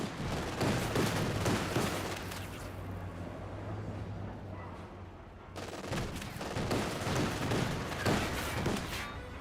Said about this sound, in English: Mortar firing away, rifle grenade there as well.